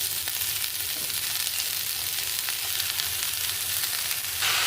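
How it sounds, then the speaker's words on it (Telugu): Spinach goes into hot oil for a spinach egg curry, setting off a loud, continuous close-up sizzle of frying that holds steady throughout, with faint stirring and no talk. "ఇప్పుడు మనం ఇందులో పాలకూర వేసేసుకుందాం ఒక కట్ట పాలకూర"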